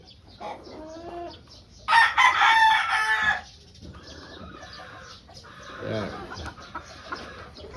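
Pure white Kelso chickens, a breeding trio of hens and a straight-combed rooster, crow loudly once near the start and cluck softly around it, with someone talking intermittently.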